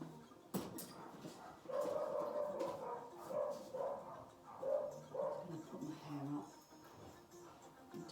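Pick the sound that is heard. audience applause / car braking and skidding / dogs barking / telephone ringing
dogs barking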